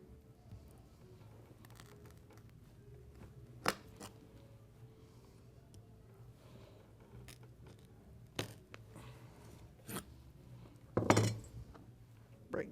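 Wooden skewer ends cut on a kitchen cutting board: a few sharp, spaced snaps and clicks, the loudest cluster near the end, over a faint, steady background hum.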